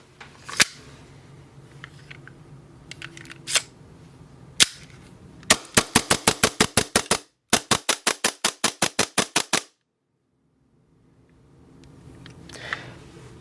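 A custom-built VOODOO blaster from LA Capa Customs fires in a shooting test: a few sharp single cracks, then two rapid bursts of crisp, evenly spaced pops, close and loud, followed by quiet with no talking.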